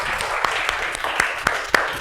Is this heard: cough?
no